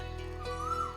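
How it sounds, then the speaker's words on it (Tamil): A short, clear myna bird call whistles and rises over a steady droning background, heard once and close by. "இது மைனாவோட குரலாச்சே"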